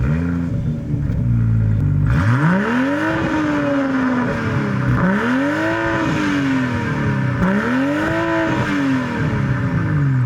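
A BMW M340i sports sedan revs hard through its exhaust, with three distinct rising-and-falling engine sweeps after a brief idle, loud and close with no talking.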